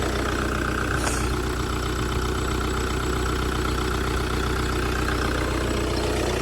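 A 2015 Audi A4 B8 S-Line with a 2.0 TDI diesel engine idles steadily, giving a continuous, even, close rumble with a fine rattling texture and no talk over it.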